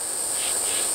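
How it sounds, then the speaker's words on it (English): Cicadas in a forest trill in a steady, continuous high-pitched drone that stays level and fairly loud throughout, with no voices over it. "You hear those little cicadas there."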